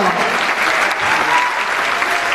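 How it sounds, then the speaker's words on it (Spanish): Audience applause for tango dancers at a stage-category qualifying round of a world tango championship, a dense, steady wash of clapping from a large crowd filling the whole moment. "Fuerte aplauso"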